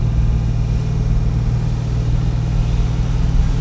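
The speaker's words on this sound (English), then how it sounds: "The exhaust sounds unbelievable" A 1965 Dodge Coronet 500 sleeper runs with a loud, steady engine and exhaust drone, a deep low rumble holding constant under a mid-range growl throughout, close and unbroken with no talking.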